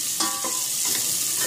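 Half a cup of cut onions sautés in a pan until golden, giving a steady, close sizzle with a few soft scrapes of stirring.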